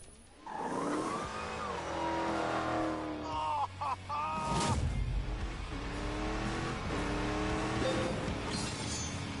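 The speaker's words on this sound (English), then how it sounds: "And in his whining Dodge Challenger Demon, Hammond has an erection." A Dodge Challenger Demon driving hard with its engine revving and whining through rising gear pulls, loud and close, with brief tire squeal and a short break in the engine note midway.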